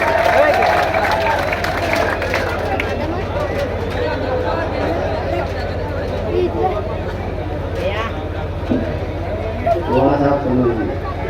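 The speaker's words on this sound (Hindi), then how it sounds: "जोरदार ताली बजाए।" Sustained applause and clapping from the audience at a Hindi kavi sammelan held for Ganesh Chaturthi, a dense crowd wash of claps running throughout the clip with voices mixed in.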